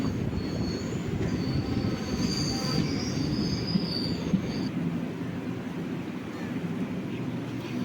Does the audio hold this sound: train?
yes